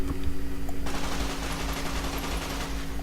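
A full-auto Maria pistol fires in Fallout: New Vegas, a rapid continuous burst of close, loud shots after a short lead-in of mechanical hum.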